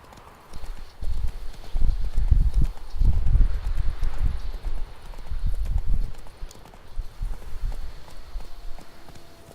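Horse hooves galloping in the video game The Witcher 3, a steady loud clip-clop rhythm through most of the stretch before easing off near the end, with no talk over it.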